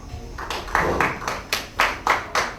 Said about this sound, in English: A big round of applause for the Honorable.